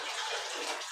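Water is poured into a pressure cooker for a green masala chicken casserole, producing a brief, steady splashing gush that stays even and close throughout.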